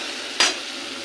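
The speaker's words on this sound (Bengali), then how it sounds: "টমেটো, কাঁচা লঙ্কা বাটা। মশলাটাকে কষবো" Tomato and green chili paste with ginger sautéing in oil: a continuous close sizzle with one sharp, brief burst of spattering as the paste is stirred, then the steady frying hiss resumes.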